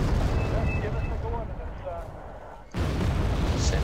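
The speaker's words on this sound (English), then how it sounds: "Artillery strike on the way." An artillery strike in a video game arrives as a dense, continuous rumble of booms that fades briefly before an abrupt loud return.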